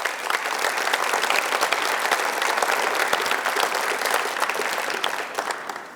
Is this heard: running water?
no